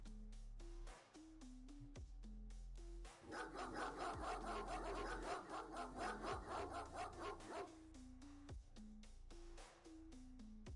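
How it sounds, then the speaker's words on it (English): A dog barking in the X-COM game with the Xenonaut mod pack, a steady run of sharp barks through the middle section over a rhythmic game music loop. "Hey, the barking dog actually scared her."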